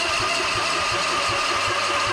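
A Husqvarna Z246 zero-turn mower with electrical problems cranks and turns over in a steady low pulsing rhythm, close and fairly loud, with no voices over it.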